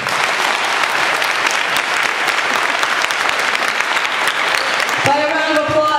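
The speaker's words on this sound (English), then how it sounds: "By a round of applause, how many of you have ever worked in a restaurant?" Dense, loud audience applause fills a crowded hall at an MLK Day event, steady throughout and swelling, then a voice begins speaking over the tail end as it fades.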